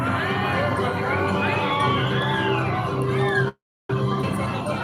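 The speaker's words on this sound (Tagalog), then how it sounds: "let's give them a big round of applause" Crowd cheering and shouting at a night event at Sawangan Park on the Legazpi City waterfront, loud overlapping voices and whoops with babble, cut by a brief dropout before the noise resumes.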